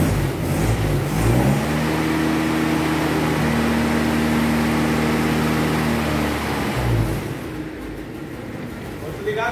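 A Jeep Willys engine idles steadily after a jump start, its low harmonic drone holding close and loud for several seconds before it is shut off and cuts out, leaving background noise.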